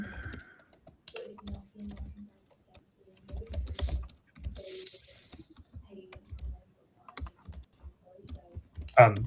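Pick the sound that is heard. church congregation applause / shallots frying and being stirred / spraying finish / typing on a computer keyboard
typing on a computer keyboard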